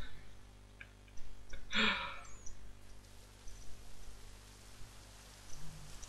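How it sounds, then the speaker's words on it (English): Rain falling in the Assassin's Creed 3 video game, a faint soft hiss with one brief louder burst of patter near the two-second mark, low under quiet background. "No, that's rain. It's definitely rain."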